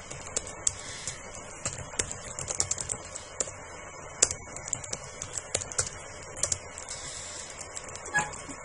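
Someone types a comment on a computer keyboard, producing a steady run of quick, light key clicks with occasional louder taps, close by and with no talking over it.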